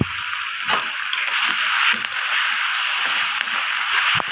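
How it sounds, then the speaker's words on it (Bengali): Garlic and green chilli paste frying with onion in a pan, stirred: a steady, bright hiss of sizzling with faint scraping knocks from the stirring, continuous and close, no voices. "দিয়ে আমি একটু ভালো করে নেড়ে নেবো যাতে মশলাটা কাঁচা ভাবটা চলে যায়।"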